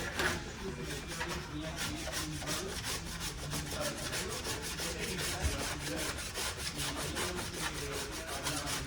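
Flat file scraped repeatedly along rusty ski edges, a steady run of close, even rasping strokes in a quick regular rhythm with no pauses.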